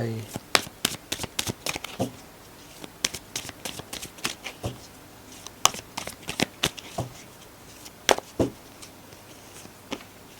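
A deck of cards for a card reading is shuffled close up, with quick, crisp riffling and flapping bursts in an uneven rhythm, while a voice talks softly in the background.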